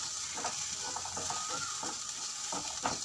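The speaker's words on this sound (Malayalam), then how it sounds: "ഞാൻ ചെമ്മീൻ വറുത്തുകൊണ്ടിരിക്കുകയാണ്" Shrimp frying in a pan for a chutney produce a soft, steady sizzle with light scraping and clicking as they are stirred, fairly quiet and without voices.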